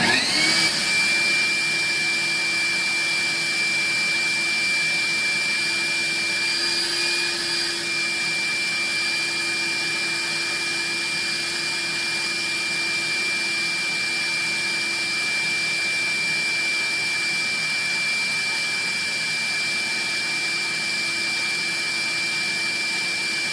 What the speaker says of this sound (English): I should probably turn the vacuum on. So it's going to get real loud.